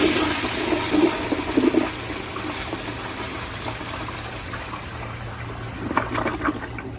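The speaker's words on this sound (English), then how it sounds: "So here's one more flush on full pressure" A 1974 Crane Santon toilet flushes forcefully at full pressure in a strong, steady rush of water that gurgles and swirls, with a low hum running underneath throughout.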